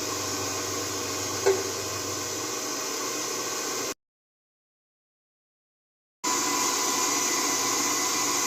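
Stand mixer running steadily on garlic cheese bread dough, a continuous broadband whir that stops abruptly for a couple of seconds of silence and then resumes at the same level.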